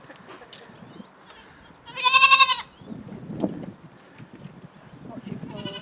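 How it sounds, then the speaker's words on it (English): At a wildlife park in Kent, a goat lets out one loud, wavering bleat lasting under a second, with people talking nearby before and after it. "And we've got the goats."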